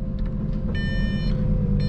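A steady electronic reverse warning beep sounds a few times over a Lamborghini Gallardo engine's low idling rumble, with no one speaking.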